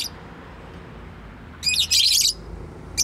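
Pet birds kept in a cage chirp in a quick cluster of bright, high tweets near the middle, with a short chirp at the start and end over a quiet room background.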